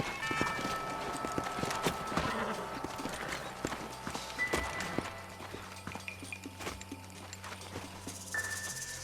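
Hooves clip-clop on hard ground in an uneven, busy rhythm, several horses moving at once in the video game Red Dead Redemption, fairly close and moderately loud.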